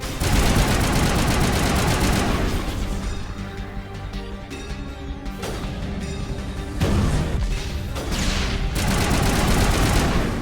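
Dense, loud rapid gunfire in the video game Mass Effect, sustained bursts of automatic shots and impacts filling the whole stretch with brief lulls between volleys.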